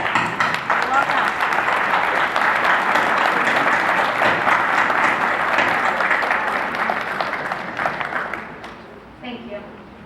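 Graduates at a commencement ceremony applauding the audience, a dense sustained burst of many hands clapping for about eight seconds before fading out, with scattered crowd noise and faint voices beneath.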